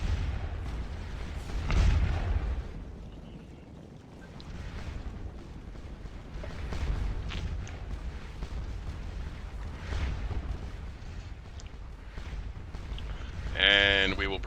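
Artillery fire in the Napoleonic battle game Scourge of War Waterloo, with distant low booms rolling under a constant rumbling battlefield din and a sharper burst near the end.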